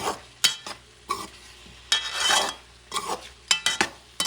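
Creole shrimp seasoned with cayenne pepper is stirred in a pan, with irregular bursts of spoon scraping and clanks against the cookware separated by short pauses, close up.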